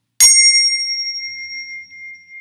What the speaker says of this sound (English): and very loud handbells.